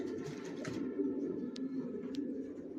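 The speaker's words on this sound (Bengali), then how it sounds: "কোয়ালিটি সম্পন্ন কবুতর পালি" Racer pigeons in a breeder's loft coo in low, rolling murmurs close by, with a couple of brief higher chirps standing out over the steady cooing.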